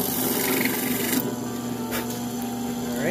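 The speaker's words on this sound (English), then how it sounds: "We'll have to hit some of that with a chisel." A chisel scrapes and pares scrap wood to clean out a recess for a switch, giving a steady, close rasping scrape that continues without pause.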